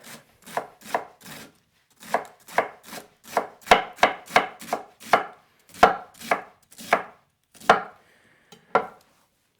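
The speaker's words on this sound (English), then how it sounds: "Next up, let's do some lettuce. So this is just going to be for the salad. So I'm just going to cut these up." Lettuce chopped for a salad on a cutting board, a knife striking in about twenty crisp, evenly spaced cuts, close and clear, with no voices.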